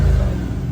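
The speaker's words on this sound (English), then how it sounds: "we're gonna rev up the engine a little bit" A C8 Z51 Corvette in tour mode revs its engine in a brief, loud, deep rumble heard close up, with wind noise over it.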